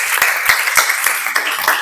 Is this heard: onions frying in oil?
no